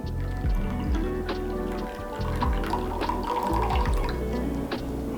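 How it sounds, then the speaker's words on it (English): Lukewarm water, about 100 milliliters, poured into a bowl to start a poolish for French baguette dough, a steady close splashing trickle lasting several seconds. "So to make poolish in a bowl, I'm adding about 100 milliliters of lukewarm water."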